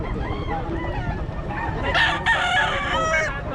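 Chickens and roosters on a farm crow and cluck loudly nearby, with a long crow rising in the second half over a dense background of birds and faint voices.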